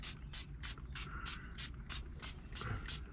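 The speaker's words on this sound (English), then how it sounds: "You can also spray this on your clothing and give it like a really nice smell as well." Repeated short bursts of fine spray hiss, about nine quick pumps in a steady rhythm, close by over a low background rumble.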